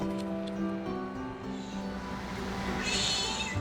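A stray kitten meows near and clear, a few short cries over steady low background noise, with no talk.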